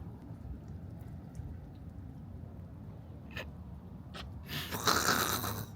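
A person snoring faintly in a quiet room at night, slow soft breaths repeating under low background hiss, with a brief louder rustle near the end.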